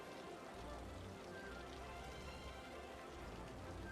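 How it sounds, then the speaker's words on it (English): Steady rain falls in the Cities: Skylines city-building game, a continuous, even hiss of drops on surfaces that runs unbroken for the whole stretch with no voices. "It doesn't stop raining in this game."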